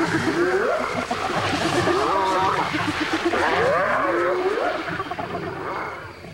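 Hyenas in the wild making a furious, whooping and growling din to drive off young male lions, continuous and loud with rising and falling calls layered over each other throughout.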